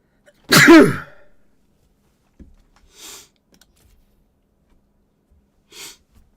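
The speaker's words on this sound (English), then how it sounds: "This is my first sneeze on stream." A single loud, close sneeze from one person, followed by quiet sniffs and faint breaths in an otherwise silent room.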